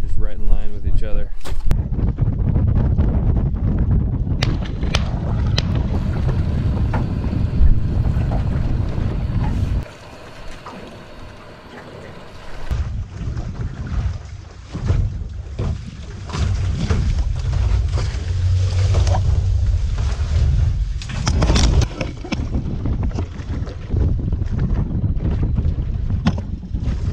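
A boat motor runs on open water during a layout-boat diver hunt in Michigan, a steady loud drone buffeted by heavy wind noise on the microphone, dipping briefly before resuming.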